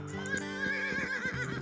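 Horses whinny and neigh in the Age of Empires video game, drawing a fast two-wheeled chariot; several loud, close whinnies overlap across the short span, with faint hoof clip-clop underneath and no talk.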